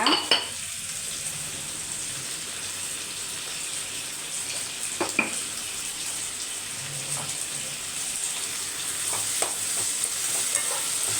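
Small onions and tomatoes with salt fry in a pan, giving a steady, soft sizzle throughout with a few faint stirring scrapes and no one talking.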